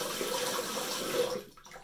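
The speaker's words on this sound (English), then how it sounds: "I'm going to clean the sink" Running water gushes steadily into a sink during cleaning, a broad hissing splash that cuts off near the end, with no voices.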